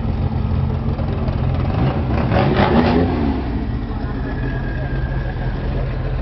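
A BMW convertible's engine runs steadily, with a brief rev swelling midway before settling back to a rough idle, heard close up while someone talks over it.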